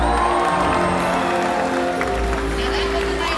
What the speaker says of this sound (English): Let's give him a great big cheer.